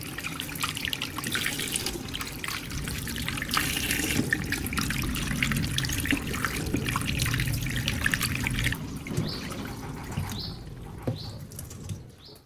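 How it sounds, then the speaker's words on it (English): Tap water runs steadily over eggs in a sink, a continuous close splashing stream that fades out near the end, with no talk. "Finally, rinse the eggs again with clean water."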